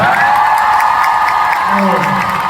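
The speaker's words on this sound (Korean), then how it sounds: "박수 한번 보내주세요" A concert audience at a show applauds and cheers loudly and continuously, with a sustained tonal sound, music or voices, running through the crowd noise.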